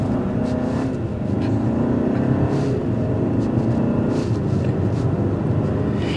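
A 2024 Hyundai Santa Fe Limited in sport mode, with its 8-speed wet dual-clutch automatic, accelerates under a steady, loud engine drone that holds throughout without pause.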